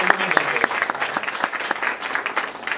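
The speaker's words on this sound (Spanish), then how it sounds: "Un aplauso para él." Audience at a film and literature conference applauding a student, a steady patter of many hands clapping at close to moderate distance, with a few voices mixed in.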